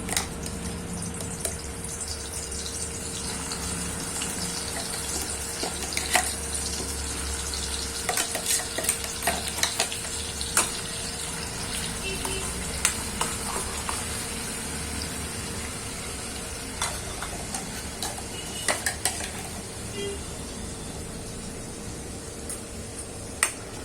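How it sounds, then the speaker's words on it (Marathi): Ground masala frying in oil in a kadai for dhaba-style egg curry, a continuous close sizzle with occasional sharp ticks and scrapes of a spoon stirring against the metal, with no voices. "हा मसाला आपल्याला छान परतून घ्यायचा आहे"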